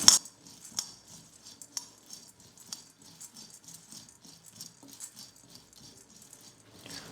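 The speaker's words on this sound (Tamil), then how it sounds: "இந்த பொட்டுக்கடலை இதில் சேர்த்துட்டு நல்லா நம்ம வறுத்துக்கலாம்." Roasted gram (pottukadalai) dry roasting in a kadai over medium flame for laddu, a steady light rattle and patter of dry grains being stirred against metal, close and continuous with small clinks throughout.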